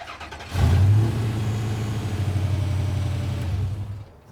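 A Hemi-powered Gremlin's engine fires and runs at a steady, loud idle with a slight rev after a drive belt replacement, a close continuous rumble for several seconds before dropping off.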